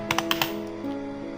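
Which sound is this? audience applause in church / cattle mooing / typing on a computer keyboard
typing on a computer keyboard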